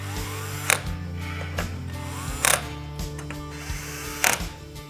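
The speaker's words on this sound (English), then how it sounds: "Now using a 5/32 bit, we're just gonna tighten these a little more." A hex bit driver tightens roof rack mounting screws on a 2023-or-later Toyota Sequoia with a Prinsu Pro rack: close, steady mechanical whirring and clicking, with three sharp ratcheting bursts spaced through the span.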